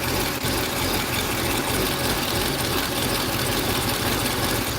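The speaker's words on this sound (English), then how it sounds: "I mean, the valve train sounds great." A 2013 Corvette C6 with an LS3 V8 idles steadily and loudly throughout, its even rumble continuous with no talk over it.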